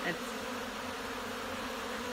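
A steady, dense buzzing of many honey bees at an open hive fills the air, constant and fairly quiet with no pauses.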